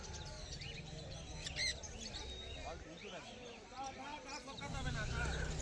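Owl finches at a Galiff Street pet bird market chirp and tweet in quick, scattered bursts, close but fairly faint, beneath someone talking throughout.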